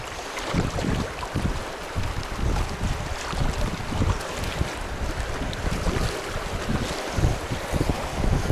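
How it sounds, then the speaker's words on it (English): A canoe runs through rapids on the Saugeen River in southwestern Ontario, with rushing water and repeated thumps as the hull hits waves, plus gusty wind buffeting the microphone, loud and close throughout. "You might want to brace a bit when we hit the waves."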